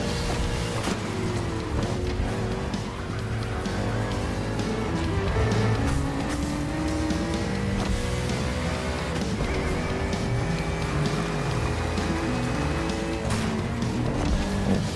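A NASCAR race car in The Crew Motorfest video game runs on worn tires, with a loud, continuous engine drone whose pitch rises and falls through gear changes over the whole lap.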